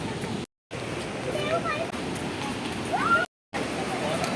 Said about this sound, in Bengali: জলের শব্দটা কি সুন্দর আসছে